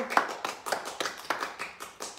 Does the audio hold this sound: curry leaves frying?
no